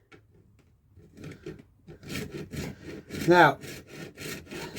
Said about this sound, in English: this is just a standard 24 TPI hacksaw blade.